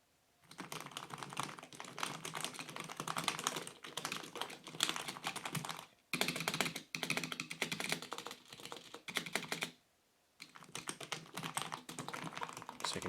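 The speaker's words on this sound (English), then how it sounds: "So you can hear it is a membrane keyboard, although it does have the mechanical look to it." Typing on a Havit HV-KB380L LED-backlit membrane gaming keyboard with a floating-key design: a dense, steady clatter of fast keystrokes that runs on with two brief pauses, heard close up and alone.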